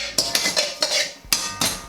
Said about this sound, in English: Is you can use your ladle and mash them in.